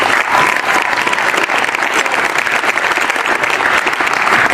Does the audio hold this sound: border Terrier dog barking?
no